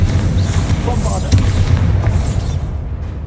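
An explosive spell blast from the Hogwarts Legacy video game, a dense rumbling boom sustained for a few seconds with crackling debris above, loud and close, fading toward the end.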